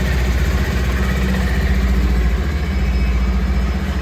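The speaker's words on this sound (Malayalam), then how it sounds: "വണ്ടി സ്റ്റാർട്ട് ചെയ്തിട്ട് അതിൻ്റെ എഞ്ചിൻ്റെ സൗണ്ട് കൂടി ഞാൻ നിങ്ങൾക്കൊന്ന് കേൾപ്പിച്ച് തരാം" A 2025 Bajaj Pulsar 150 motorcycle, the dual-disc ABS model, idles nearby with a steady, even, throbbing engine note and no other sounds.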